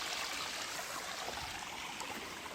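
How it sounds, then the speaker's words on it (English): A small creek with a little waterfall runs at a campsite approach in the Cohutta Wilderness, giving a steady, close, broadband rush and trickle of water with no break and no voices. "Got a little creek here, really nice. Got a little waterfall"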